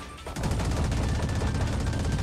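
Rapid gunfire in the video game Valorant: a dense, steady stream of shots firing in quick succession after a brief quiet start, loud and close with no talking.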